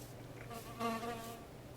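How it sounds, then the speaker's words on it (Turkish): A buzzing fly in the Minecraft video game, a faint drone that swells briefly at mid-clip over a low background hum. "sinek bile var"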